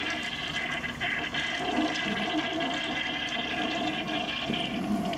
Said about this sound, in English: Let's flush it again.